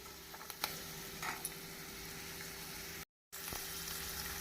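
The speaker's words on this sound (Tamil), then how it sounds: "நாம் உப்பு போட்டு வதக்குவதால் வெங்காயம் சீக்கிரம் வதங்கிவிடும்" Onions sautéing with salt in a pan for a bread egg masala make a faint, steady sizzle, with a few soft stirring clicks and a short dropout partway through.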